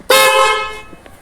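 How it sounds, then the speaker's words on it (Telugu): A motorbike horn fitted with a cutout for varied tones gives one loud, close, sustained blast of just under a second that fades out, with no talking. "ఈ హార్న్ రకరకాలుగా వాగేదానికి కట్అవుట్ అయితే పెట్టించాను."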